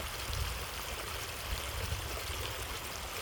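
A waterfall stream rushes steadily in a constant broadband roar, like water tumbling over rocks, with no voices.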